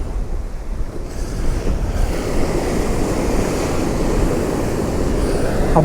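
Wind gusts across an open East Coast shoreline at Kilnsea in the UK during sea fishing, a loud, steady rumbling roar buffeting the microphone with surf washing underneath and no voices.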